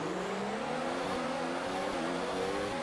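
Formula 1 cars launching off the grid at the Abu Dhabi race start in F1 2019, several engines revving hard together with rising whining pitches layered over one another, loud and continuous.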